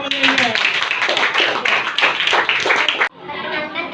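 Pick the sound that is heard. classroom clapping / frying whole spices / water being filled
classroom clapping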